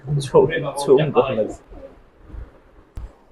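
Damascene pigeons coo in a run of soft, low, throaty calls over the first second and a half, followed by quieter rustling and a faint knock near the end.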